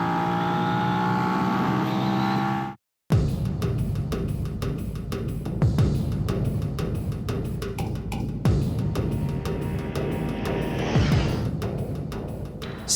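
A 2017 Suzuki SV650 motorcycle engine revs hard up to its rev limiter near 10,500 RPM. The loud, close engine note holds steady, drops out briefly around three seconds, then returns as a rough, pulsing roar with quick stutters.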